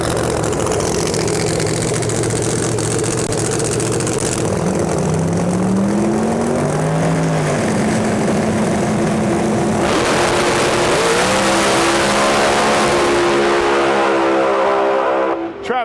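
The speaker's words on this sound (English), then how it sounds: "Now he's driving a 6-jet little Camaro." A Pro Mod Camaro drag race car on a testing day at the track, its engine a loud, sustained roar that climbs steadily in pitch with revving, heard up close and alone.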